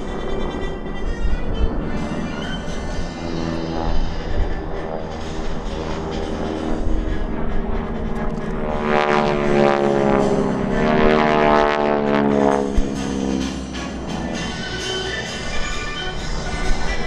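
Airshow jets fly low at Andrews Air Force Base, giving a long, loud, sustained roar that swells with a sweeping whine in the middle as they pass, then holds steady, with no talking.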